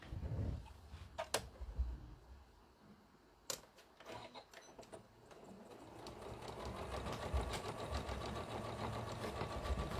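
After a few scattered clicks and handling noises, a sewing machine starts and stitches steadily across fabric toward the selvage while decorating a Yazzii bag, building to a continuous run.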